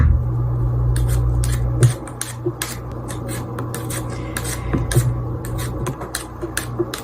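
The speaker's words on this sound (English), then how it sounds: "the edge of the potato peeler usually has a little corner so that you can go ahead and just cut that out by giving it a little spin." Potato peeler scraping and cutting a potato in a steady series of short, close rasping strokes with small clicks over a low background hum.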